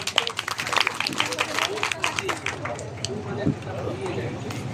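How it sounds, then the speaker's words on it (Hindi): Loud, dense clapping from a crowd at a district-level livestock fair and exhibition, rapid and sustained, with voices talking over it. "जोरदार तालियां हो जाए।"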